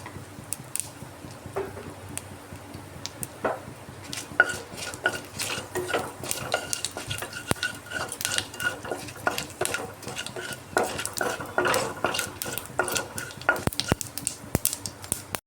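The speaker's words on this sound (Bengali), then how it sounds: "ফোড়নটা একটু ভেজে নিচ্ছি" Panch phoron spices and dried red chillies crackle and sizzle in hot oil as a spoon scrapes and clinks against the pan, with busy irregular stirring throughout.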